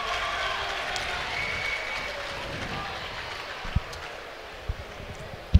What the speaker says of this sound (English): Some of the Austrian fans already clapping and celebrating.